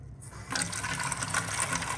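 Filtered water from a pitcher pours into the water tank of a Fisher & Paykel espresso maker. A quiet start gives way to a steady splashing gush that continues to the end.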